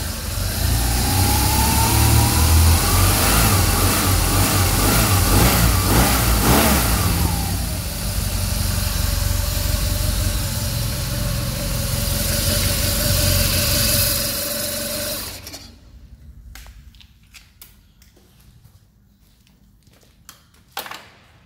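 A 2007 BMW R1200GS motorcycle engine idles and revs up loudly nearby, pitch rising and falling through several revs, then cuts off abruptly, leaving faint clicks and handling noises.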